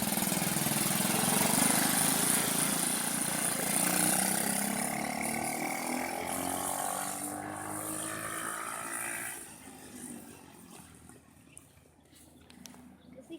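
Small engine of a Tao Tao ATK125A buggy running steadily, a buzzy drone that holds level, then fades and drops away as the vehicle moves off, leaving quieter background noise.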